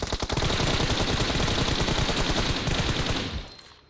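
Rapid gunfire from the video game PUBG, including a pump shotgun, crackles loudly in a dense burst of shots for over three seconds before cutting off.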